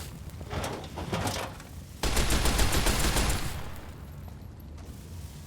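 Flares fired in the video game Fallout: New Vegas, with bursts of sharp, crackling gunfire-like pops, a louder dense volley kicking in midway and tailing off, heard alone without talk.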